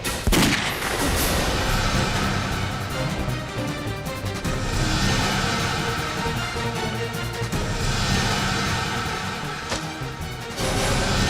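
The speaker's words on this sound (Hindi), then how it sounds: "पहली बार जब मैंने इस पे गोली चलाई थी तो वो ब्रिजेश को लग गई थी" Loud, dense gunfire in a Hindi TV crime drama fills the whole stretch, a sustained barrage of shots and blasts with no pause, close and harsh.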